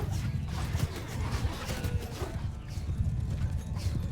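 Horse archers' hooves galloping in the video game Mount & Blade II: Bannerlord, a dense rapid clip-clop of many hooves amid battle noise, steady and fairly loud throughout without speech.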